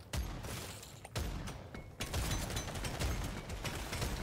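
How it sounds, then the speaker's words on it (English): Shotgun blasts in Deep Rock Galactic Survivor while fighting a Dreadnought: three loud, sharp bursts spaced about a second apart, each followed by a dense wash of combat noise. "Shotgun."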